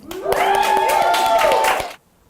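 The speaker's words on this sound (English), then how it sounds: "so please clap it up for Chad Ridgely tonight" A short burst of talk show studio audience applause with whooping cheers on top, loud and steady for under two seconds before cutting off.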